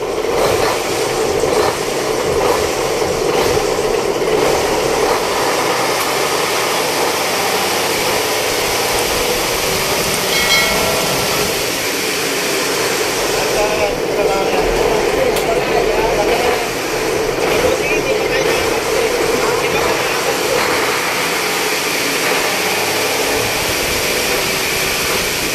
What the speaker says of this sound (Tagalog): Ang ganda ng tunog ng makina.